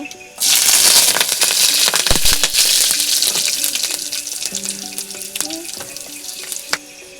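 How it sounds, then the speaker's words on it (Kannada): Mustard seeds and curry leaves dropped into hot oil, starting as a sudden loud hiss and sputter that holds steady and then gradually eases, with scattered crackles and pops close by. "ಎಣ್ಣೆ ಕಾದಿದೆ ಇವಾಗ ಸಾಸಿವೆನ ಹಾಕ್ಕೊಳ್ತಾ ಇದ್ದೀನಿ"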